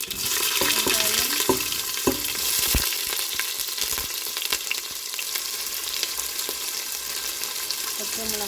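Fennel seeds and chopped green onion fry in hot oil for a fish curry, a steady close sizzle with a few sharp stirring knocks against the pan, no talking.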